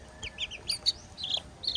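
A small silkie chicken makes soft, high clucks and chirps in quick, irregular bursts, close and fairly quiet against a hushed background with no talking.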